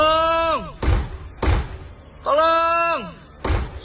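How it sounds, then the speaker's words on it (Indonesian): Heavy pounding on a door as a radio drama sound effect, four loud thuds in a slow uneven rhythm, alternating with a person's strained vocal cries. "Aku lalu menggedor-gedor pintu dan minta tolong."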